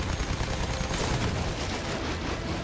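Dense, loud gunfire from the World War I shooter Battlefield 1, a continuous roar of shots and battle noise with no clear gaps between reports.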